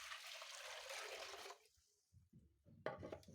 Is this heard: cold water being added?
yes